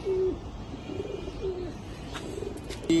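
Indian high flyer Kaldam pigeons cooing, low soft coos repeating a few times close by against a quiet background hiss.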